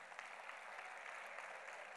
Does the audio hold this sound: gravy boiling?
no